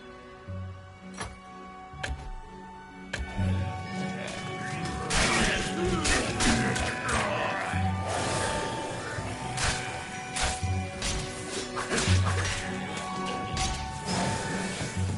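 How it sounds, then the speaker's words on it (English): Obstructions smashed with clubs and other weapons in a video game, a dense run of loud crashing impacts and clattering debris over continuous game music and effects. "Some obstructions can be smashed down with clubs and certain other weapons."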